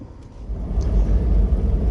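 A vehicle rolls along remote back roads in Tennessee with a low, steady engine and road rumble that swells slightly. Nothing else is heard in this short stretch.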